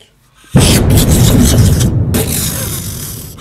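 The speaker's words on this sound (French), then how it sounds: "il y a toute une explosion" A loud, close explosion bursts suddenly, then a rumbling roar with crackling debris sustains for several seconds with a brief dip, an explosion effect during a My Little Pony tabletop role-playing session.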